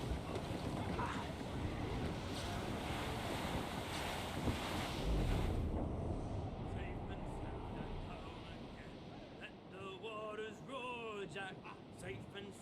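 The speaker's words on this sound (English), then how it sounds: "Interrupt my song here with your strong gust of wind?" A strong gust of wind roars in Assassin's Creed Rogue, a loud, steady rush over a sailing ship on open water for about six seconds, then easing into softer wind and waves as voices sing faintly.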